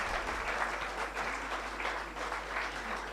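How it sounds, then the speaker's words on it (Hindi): Sustained applause from an audience honouring the chief guest at an inauguration and global awards ceremony, a dense steady roar of many hands filling the hall without pause. "एक बार बहुत ही जोरदार तालियों से"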